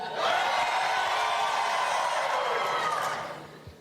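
A big indoor stadium crowd at a Superdome high school football game cheers for Alabama. The broad roar swells quickly and holds loud with whoops for about three seconds, then falls away.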